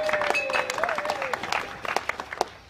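Audience applause at the grand opening ceremony of the Bromyard Town Heritage Trail, a few seconds of scattered clapping with some sharp individual claps and faint crowd noise and a whistle-like tone over it, thinning toward the end.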